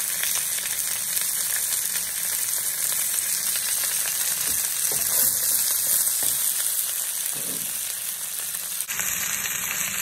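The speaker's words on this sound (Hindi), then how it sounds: "हाई फ्लेम में मैं ग्रीन चिली भी डाल दी हूँ और जिंजर गार्लिक पेस्ट भी डाल दी हूँ" Green chilies and ginger garlic paste frying in hot oil on a high flame, a steady loud sizzle that continues throughout with no talking.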